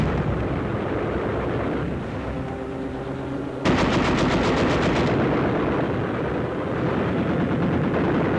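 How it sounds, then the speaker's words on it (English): Rapid machine gun fire from a war documentary battle scene, a loud sustained rattling burst cutting in over dense rumbling battlefield noise and lasting about a second and a half before fading back into the din. "Under cover of machine gun fire"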